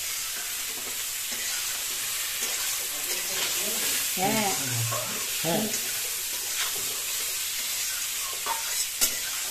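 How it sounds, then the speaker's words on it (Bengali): Cauliflower sizzles and is stirred in a pan with turmeric while a prawn and cauliflower basmati biryani is being made. A steady frying hiss runs throughout, with scraping stirs, and a voice speaks briefly over it. "এখন ফুলকপিটা একটুখানি কষিয়ে নিচ্ছি"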